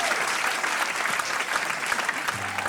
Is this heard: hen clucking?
no